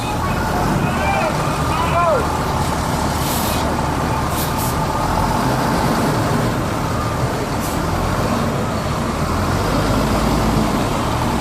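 A long-distance intercity bus from West Sumatra pulls into a depot, its engine rumbling loudly and steadily amid road noise and brief hissing, with people talking nearby.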